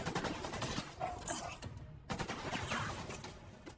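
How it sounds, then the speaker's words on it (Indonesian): Gunfire from a CIA agent firing in a movie action scene, with dense rapid bursts of shots and loud overlapping blasts, briefly cut out midway and then resuming. "muncul salah seorang agen CIA yang menembaki mereka berdua."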